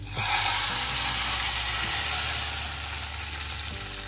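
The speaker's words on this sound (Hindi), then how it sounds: "चले तड़का लगाते हैं अब दाल को।" Hot oil sizzles and hisses steadily as chopped garlic and chili are dropped into a pan for tempering dal, loud and close, with a low hum underneath.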